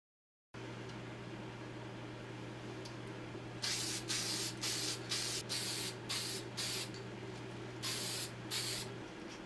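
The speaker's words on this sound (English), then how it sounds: "I'm using Walmart brand clear coat because it's all I could find" Walmart brand clear coat sprayed from a spray can, a series of about eight short hissing bursts over a steady background hum, close and moderately loud.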